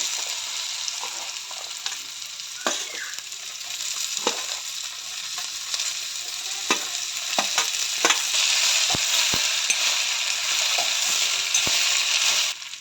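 Okra, green chili and a pinch of turmeric frying in hot oil in a pan, a steady loud sizzle with occasional stirring scrapes and knocks, with no voices.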